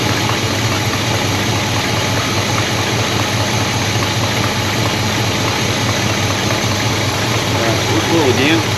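An engine that had sat unused for 17 years runs at a steady, rough idle throughout, loud and close, with a constant mechanical drone and faint knocking.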